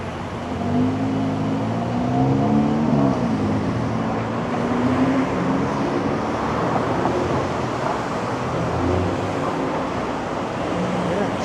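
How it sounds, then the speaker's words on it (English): Steady roar of downtown Toronto street traffic at night, a dense continuous rumble of passing vehicles with engine hum, heard close up and unbroken throughout. "Traffic is picking up."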